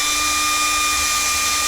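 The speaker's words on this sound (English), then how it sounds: "So let's start off by drilling a small pilot hole." A power drill bores a small pilot hole in a vehicle roof for an NMO radio antenna mount, giving a steady high whine throughout, loud and close, with no talk.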